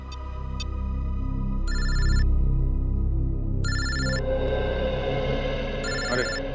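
A telephone rings three times in short electronic bursts, spaced evenly, over a low background hum.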